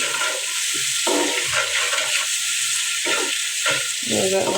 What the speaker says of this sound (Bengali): এখন এগুলো ভালোভাবে কষিয়ে নিতেছি।